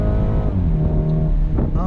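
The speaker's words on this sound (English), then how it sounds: "I'm going to go ahead and floor it again." A BMW 430i convertible's 2-liter turbocharged four-cylinder pulls at full throttle, a steady harmonic engine drone climbing slightly in pitch, heard close from inside the cabin.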